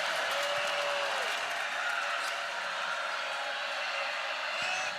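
A volleyball crowd at Gregory Gym cheers and applauds in a steady, dense wall of noise, with a whistle-like tone rising briefly near the start.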